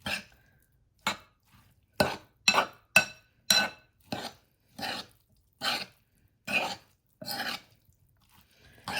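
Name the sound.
folding guacamole with kosher salt in a bowl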